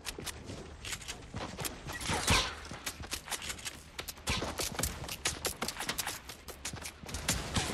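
Gunfire in the Fortnite video game rattles almost nonstop as a dense string of sharp, moderately loud shots and impacts, irregular and overlapping, with game ambience filling the gaps.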